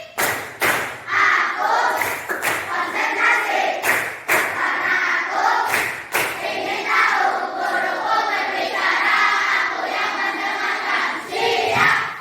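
A classroom of schoolchildren performs a rhythmic concentration clap routine, sharp patterned claps and thumps in quick bursts mixed with children's shouted chanting, loud and busy throughout.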